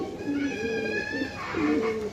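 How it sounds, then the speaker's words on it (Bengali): Soft, low pigeon coos repeat a few times, close by, over a faint hum of background noise. "দুইটা কবুতর একই রকম দেখতে একই জাতের কবুতর দেখছেন গলা কষতেছে"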